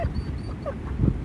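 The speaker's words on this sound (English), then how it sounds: "this dog though." A dog whimpers softly nearby in a few brief, faint high whines over a low background rumble, ending in a slightly louder whimper.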